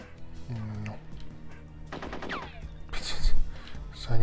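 Gunfire in the PlayStation game 007 Tomorrow Never Dies: several sharp shot bursts crack through the second half, with the loudest volley near the end and game effects and quiet talk between.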